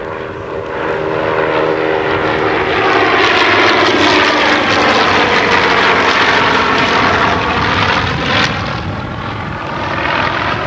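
A T-6 training aircraft's propeller engine drones loudly as the plane passes, rising and falling in a sustained buzzing roar.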